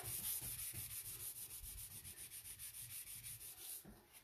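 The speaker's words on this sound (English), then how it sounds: "I've got a lot of excess to sand off." Wood filler being sanded off furniture by hand: steady rhythmic scratchy rubbing strokes, close and continuous, with no talking.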